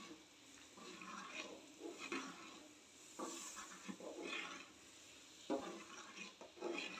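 Vegetable upma being mixed in a pan, soft irregular stirring and scraping strokes over a faint sizzle and hiss, quiet and close, with no talking.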